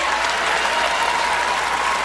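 An audience applauds after a line in a political speech, a dense, even wash of clapping from a crowd that holds steady the whole time.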